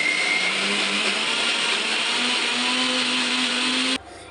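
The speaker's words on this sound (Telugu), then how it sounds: "కొద్దిగా వాటర్ యాడ్ చేసుకొని మళ్ళీ మిక్స్ పట్టేసాను" A mixer grinder roars at full speed grinding chutney with a little added water, loud and continuous, then cuts off abruptly near the end.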